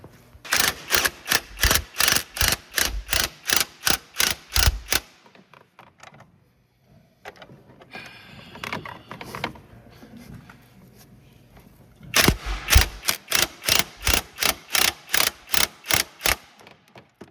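A ratchet wrench snugs down the upper ball joint nut on a 2003-2007 Honda Accord, making two runs of rapid, evenly spaced loud clicks close by, separated by a pause filled with faint handling and rustling.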